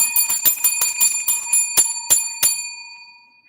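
A bell, like a bicycle bell, rung rapidly about ten times in a bright, ringing series, loud and close, with the final strikes left to fade out over the last second.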